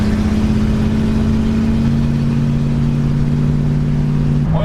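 Barn-find Mopar car engine held at high revs near redline, a steady loud drone with strong low harmonics that holds evenly, then drops sharply at the very end.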